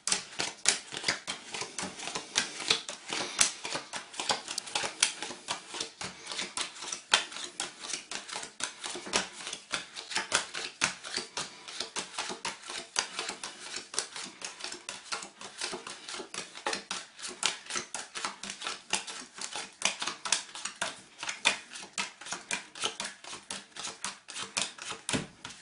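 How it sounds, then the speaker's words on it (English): Playing cards dealt into small piles on a table during a magic trick, a steady run of quick, crisp flicks and taps repeating close up for the whole stretch with no talk. "So let me deal some piles of cards."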